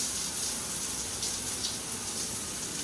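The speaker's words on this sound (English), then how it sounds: "Let's check the water pressure here." A hotel shower runs steadily with full water pressure, a constant hissing spray that fills the bathroom with no voices over it.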